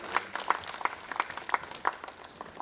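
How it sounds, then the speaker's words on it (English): An audience at a public health conclave applauds the members of a panel, producing a short burst of moderate, rhythmic clapping that sounds like only a few hands at a middling distance, with no voices. "Please give a big round of applause to all the members of the panel."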